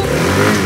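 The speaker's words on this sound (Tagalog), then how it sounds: "good na yung kanyang motor, umaandar na" Rusi motorcycle engine running steadily after starting, a close, continuous mid-pitched drone with a slight rise in revs, no talking.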